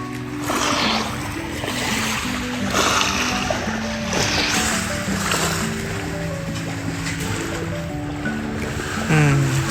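Sea waves wash and splash steadily close by along a resort shore, making a loud, continuous rush of water throughout, with faint voices and other sounds now and then beneath the surf.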